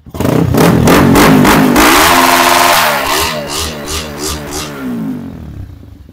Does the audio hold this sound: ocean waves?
no